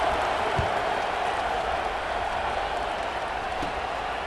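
Stadium crowd noise from the EA Sports College Football 26 video game, a steady, subdued broadband murmur of a large audience with a couple of faint thumps, fairly quiet and continuous with no talk over it.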